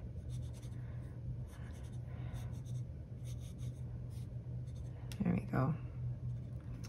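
Soft scratching of a fountain pen swatching green ink on paper, close and steady over a low background hum, with a brief voice near the end.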